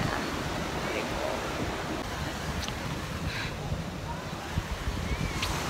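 Ocean surf rolls in at Padang Beach as a steady broadband wash under gusty wind, continuous and fairly faint with no distinct breaks, with a few soft higher hisses drifting through.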